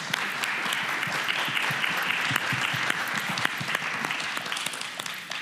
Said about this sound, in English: I want to applaud this panel